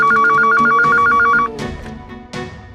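A telephone rings while a call is placed from a jewellery shop to a police station, with a repeating electronic ring pattern for about a second and a half, followed by softer background tones.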